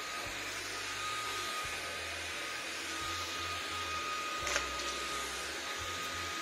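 A Jimmy PW11 Pro Max vacuum cleaner runs steadily with a constant whooshing suction roar and a tonal whine, briefly bumping once partway through, no voices.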